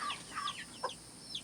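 Farm chickens near their coop door, clucking in a few short, quick bursts close by, over a faint outdoor background with no voices.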